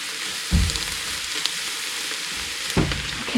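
Garlic hits a pan of softened, cooked-down cabbage and sizzles in a steady broadband hiss, with two louder bursts of frying and clatter near the start and end, no talking.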